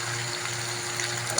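Food fries in a hot pan with a dense, steady sizzle that holds at an even, fairly loud level over a brief moment, with no speech.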